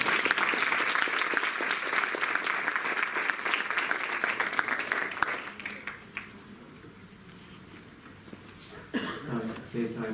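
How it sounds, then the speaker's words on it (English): An audience at a Sai Baba birthday celebration breaks into sustained applause, dense clapping that fades after several seconds into scattered claps and murmuring crowd noise. "Another round of applause."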